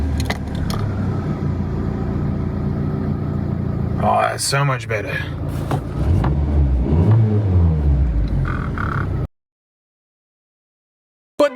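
A VW Golf engine with a newly replaced engine mount idles with a steady rumble and revs up briefly partway through, while people talk over it, before the sound drops out into silence.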